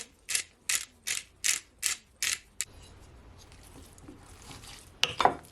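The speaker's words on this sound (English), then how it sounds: "I'm gonna add my black pepper now." A hand pepper mill grinds black pepper over pepper steak in a Jamaican kitchen: six crisp, evenly spaced ratcheting twists, then a pause of quiet room noise before two more quick grinding clicks.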